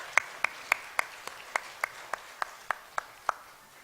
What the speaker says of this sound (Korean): 우리 하나님께 영광의 박수를 올려드리겠습니다.